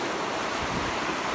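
Floodwater rushes through a roadside drainage ditch toward tin-horn culverts under a driveway, giving a continuous turbulent roar that stays steady and close for the brief moment.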